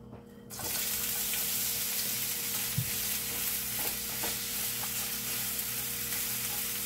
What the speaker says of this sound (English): So I will let it saute a little bit in a low heat